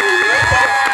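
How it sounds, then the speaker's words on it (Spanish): An audience at a live comedy show breaks into a short, loud burst of cheering and shouting, lasting about a second, with shrill voices rising above the crowd. "Aplauso para él, pero denle poquitos."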